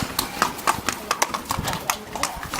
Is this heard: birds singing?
no